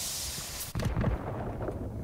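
A sudden booming explosion of a rock in a video game, with a sharp crack, followed by low rumbling debris that fades, set against a steady hiss before it.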